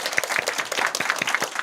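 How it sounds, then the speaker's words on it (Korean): A church congregation claps together for a newly matched couple during a Sunday service, a dense, steady patter of many hands lasting a couple of seconds with no voices over it. "우리 축하의 박수 한번 해주세요"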